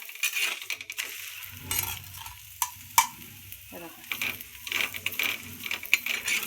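Oil roasting on a hot tawa griddle, with irregular scraping and clattering bursts over a soft, steady sizzle, close and fairly loud throughout.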